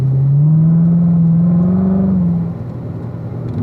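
A race car engine on the Spring Mountain track drones loudly under light throttle, its pitch rising slightly before the driver lifts and the sound drops away to a quieter hum, with no talk.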